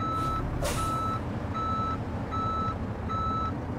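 In Euro Truck Simulator 2, a Kenworth W900B truck backs up a trailer, its reversing alarm giving steady, evenly spaced beeps over a continuous low engine rumble, with no talk.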